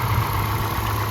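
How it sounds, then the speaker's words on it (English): A 2012 Ford Fusion SE engine idles smoothly and steadily, a low even hum close by with no talking. "as you can tell, nice and smooth running engine"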